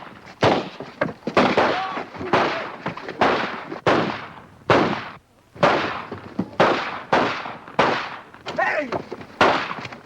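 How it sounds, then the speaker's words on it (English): Rapid rifle fire in a 1942 army comedy, a string of loud, sharp shots in quick succession with brief gaps, each cracking report followed by a short decay, close and dominant throughout. "As a cure for flinching, Sergeant, I suggest a few rounds of rapid fire."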